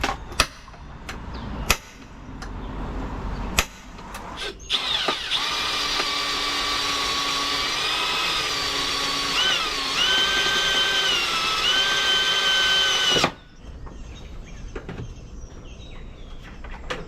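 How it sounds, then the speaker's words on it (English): A handful of short clicks and knocks, then a power drill whines steadily for several seconds drilling a hole for a rivet nut in a turbo Honda Civic, its pitch shifting under load before stopping sharply. "So we'll drill this out and use a nutsert or a riv nut"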